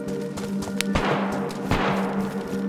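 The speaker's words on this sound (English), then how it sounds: "Oh, he's shooting at me." Sniper gunshots in DayZ ring out as two sharp, booming cracks about a second apart, each trailing into a short rumble over faint background hum.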